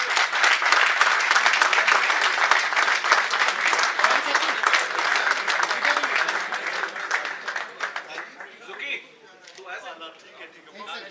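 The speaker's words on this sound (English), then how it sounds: "Can I please get a round of applause for the entire team and Ash?" Audience applause for the whole team at a Saturday T20 cricket league presentation evening, a dense, loud wash of clapping that holds steady for most of the stretch, then thins and fades into scattered claps near the end.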